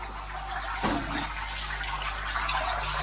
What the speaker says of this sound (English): Shower's back on, all up and running.